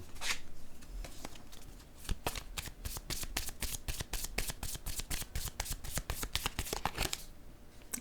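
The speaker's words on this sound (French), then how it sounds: "je vais piger une autre carte" Tarot cards are shuffled close by in a long, continuous run of quick papery riffles and flicks, busy and even, with no talking over it.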